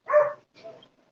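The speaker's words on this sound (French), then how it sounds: "le Costa Rica, c'est les chiens qui jappent pendant que une voiture qui passe" Costa Rican dogs bark outdoors: one clear, fairly close bark, then a weaker second bark and faint trailing yips.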